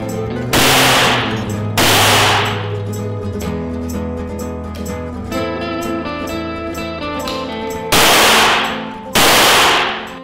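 A Boito A-400 shotgun fires loud, sharp blasts close by: a pair early on and another pair near the end, each followed by a ringing decay over a steady musical background.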